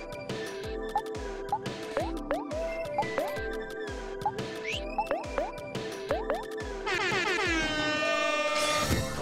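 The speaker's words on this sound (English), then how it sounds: "It used an air horn and it made everyone angry." In the game Omori, a blaring air horn sounds amid repeated synthetic bloops and drips, ending with a louder, sustained horn-like blast layered over rising electronic tones.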